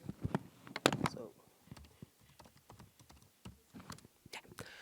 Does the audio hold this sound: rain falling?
no